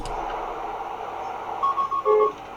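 A Tesla's Autopilot beeping alert while driving on a highway: a quick run of bright electronic beeps near the end, over a low, constant road and cabin rumble.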